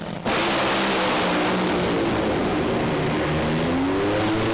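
Pair of drag racing cars running side by side at over 500 km/h; a loud, roaring engine wash bursts in after a brief quiet moment and holds as a dense, steady roar.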